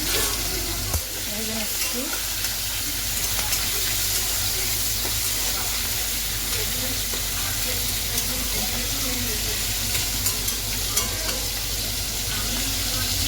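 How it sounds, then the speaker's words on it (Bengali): Shrimp fry in hot oil in a kadai, giving a loud, steady sizzle that crackles without pause throughout, with faint stirring and no clear talk. "এবার চিংড়ি মাছগুলো ভেজে নেবো"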